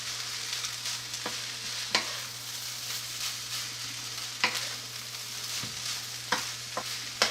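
Fried rice is stirred and tossed in a non-stick wok over a steady low sizzle, with spatula scrapes and taps at irregular intervals over a constant low hum.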